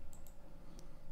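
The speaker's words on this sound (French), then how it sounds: "là je fais supprimer de mon clavier" The delete key on a computer keyboard tapped during photo editing, a few small, faint clicks sitting over a steady background hum, close by and without any speech.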